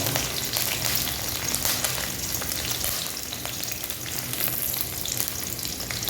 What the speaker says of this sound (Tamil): வெங்காயம் போடல இப்போ வெங்காயம் போட்டு